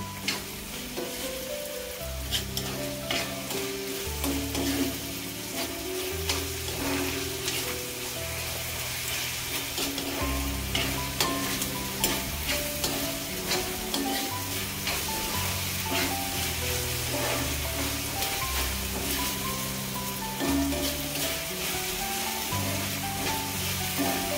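Onion fries in a pan on high gas, a continuous sizzle with scattered crackles over a steady background, with music playing along.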